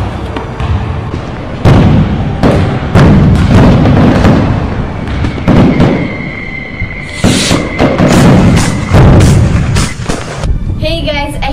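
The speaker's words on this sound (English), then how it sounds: "Let's do some fireworks." Fireworks go off in a rapid, loud series of bangs and crackles for about eleven seconds, with a whistling streak partway through and bursts that keep overlapping.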